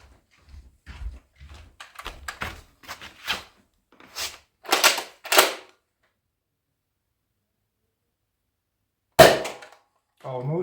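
A Nerf Kronos XVIII-500 Rival blaster is handled with a series of short mechanical clacks and snaps, then one sharp firing crack after a silent pause and a brief rattle at the end.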